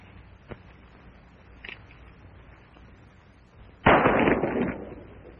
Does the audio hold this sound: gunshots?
yes